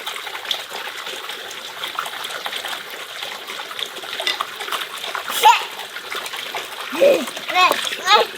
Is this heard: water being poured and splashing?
yes